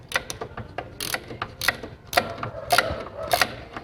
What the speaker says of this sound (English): We get the pleasure of using at least a ratchet.